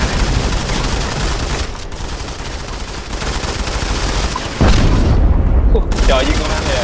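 Dense gunfire and booming blasts fill a Modern Combat 5 match, rapid shots and explosions layered loudly and continuously while a player talks over the action.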